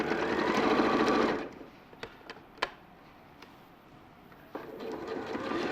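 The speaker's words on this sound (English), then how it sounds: "are you just stitching it on the stitch line of the shoulder seam?" A sewing machine stitches a shoulder seam in a fast, even whirring run for about a second and a half, then goes quiet apart from a few small clicks and taps before the stitching starts up again.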